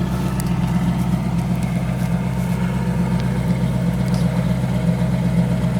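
A 1965 Ford Mustang V8 idles smoothly through a single exhaust with a new muffler, a steady mid-low hum with slight lope, close and quiet, no talking.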